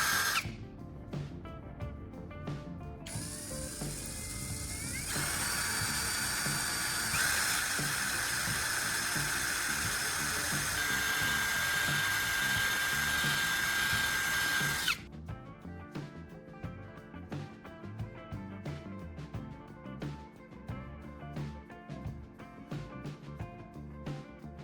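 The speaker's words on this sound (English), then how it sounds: "Now we're going to drill a hole right in the center of the cover" A power drill bores a hole through the center of a plastic phone charger cover, its steady whine running for about ten seconds between quieter clicks and handling noises before and after.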